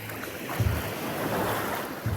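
Ocean waves wash in the Bahamas with steady broadband surf and wind noise on the microphone, and two brief louder splashes or surges stand out near the start and end.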